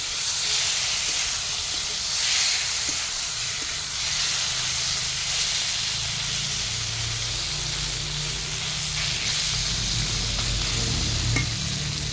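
Amudi fish sizzle and crackle steadily in hot oil with tempering spices, with occasional scraping and stirring sounds from a spatula.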